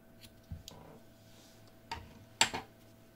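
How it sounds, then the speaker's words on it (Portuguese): Scissors snip yarn threads while crocheting an amigurumi bunny: a few quiet, close, separate clicks spread over a few seconds, the last cut the sharpest. "vamos cortar as nossas linhas"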